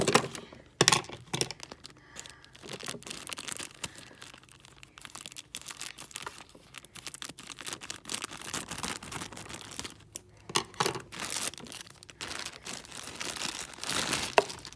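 Scissors snip and plastic crinkles while plush toy packaging is cut open up close, a scattered series of sharp cracks and rustling over about fifteen seconds.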